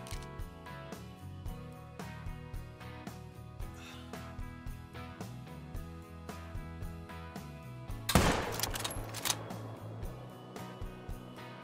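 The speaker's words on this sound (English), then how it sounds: "we dropped him. Holy, what a shot." Single sharp rifle shot in the hunting video game Call of the Wild, a loud crack with a brief echoing tail, rising out of steady background music.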